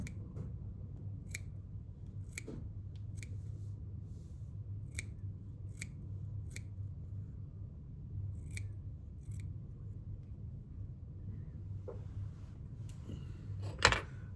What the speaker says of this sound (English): take your scissors and trim off